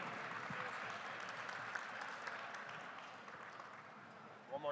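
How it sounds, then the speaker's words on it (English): Crowd at a beef cattle sale breaks into applause, a dense, moderately distant patter of clapping that holds steady then thins slightly toward the end, with faint voices mixed in. "Big round of applause here,"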